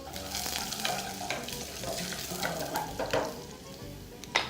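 Garlic frying in oil in a pan for a sumac chicken and mushroom ragout lunch, giving a steady close sizzle with scattered crackles and occasional stirring scrapes throughout, no talking.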